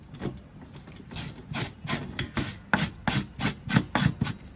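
Beef tripe being scraped clean after a hot-water soak, giving a steady series of short rough rasping strokes in an uneven rhythm, close and moderately loud with no talking.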